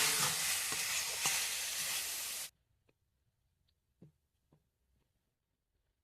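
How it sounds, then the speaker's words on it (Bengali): Boiled jackfruit and potato being stirred into spices in a frying pan, a dense sizzling, scraping burst for a couple of seconds that cuts off into near silence with a few faint clicks. "সেদ্ধ করে রাখা এঁচোড় আলুটা দিয়ে দিলাম। ভালো করে আমি মশলার সঙ্গে মিশিয়ে নেব।"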